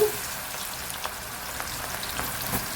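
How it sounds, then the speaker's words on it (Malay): Shallots fry in hot oil in a pan for a yam cake, giving a steady, even sizzle that holds at the same level throughout, with no voices. "kita goreng bawang goreng dulu"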